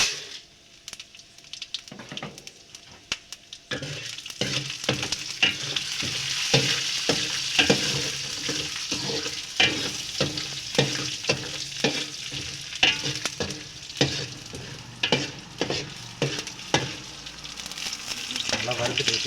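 Pepper, cumin, urad dal and chana dal dry roasting in a pan, with steady crackling and sizzling under a long run of rhythmic stirring scrapes.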